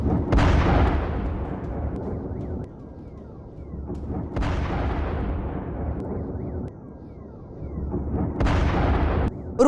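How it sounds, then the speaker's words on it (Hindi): Russian Iskander missile strikes exploding on Kyiv at night, three heavy booms a few seconds apart, each followed by a long rumbling decay. "रूस ने कीव पर स्कैंदर मिसाइल दागी"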